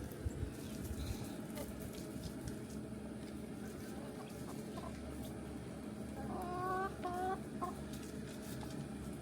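Chickens cluck softly in a few short bursts against a steady outdoor background, fairly faint and somewhat distant.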